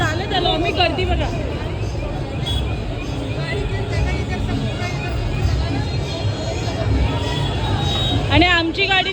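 A dense crowd chatters steadily at a busy temple, many overlapping voices forming a constant loud hubbub with traffic rumble beneath and occasional nearby voices standing out.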